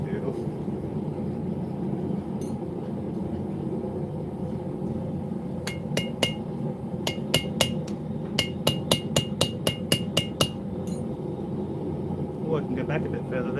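Hot metal hammered at a forge while leaf-shaped key chains are made: about a dozen sharp, ringing strikes in quick rhythmic runs, close and loud over a steady low hum.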